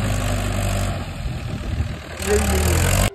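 A low, steady tractor engine idles close by with a constant chugging rumble and a high whine on top, holding level throughout.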